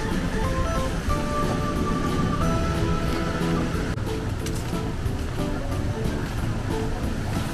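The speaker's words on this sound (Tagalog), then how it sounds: "Wave pool. Sakyan natin yan guys." Wave pool at the Aqua Planet water park, with a steady, dense wash of churning water and surf filling the whole stretch, loud and continuous, with crowd bustle faintly mixed underneath.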